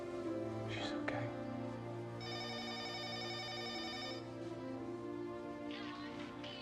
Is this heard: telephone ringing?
yes